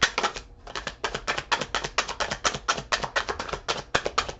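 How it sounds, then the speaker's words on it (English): A deck of tarot cards being shuffled, giving a quick run of crisp, rapid riffling taps in a steady rhythm, close and clear, with no talking over it. "Last shuffle."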